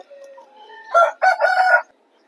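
A rooster at a rooster market in Vijayawada crows once, loud and close: a thin rising opening followed by two strong bursts, then silence.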